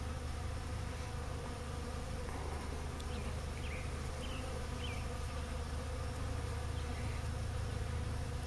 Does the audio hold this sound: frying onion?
no